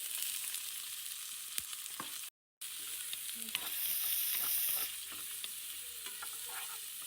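Chopped capsicum and onion drop into a hot pan and sizzle steadily up close, with a brief cut to silence partway and clinks of a utensil stirring through the frying.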